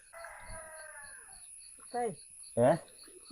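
A rooster crows once, followed by two short bursts of fowl calls nearby, with faint background noise throughout.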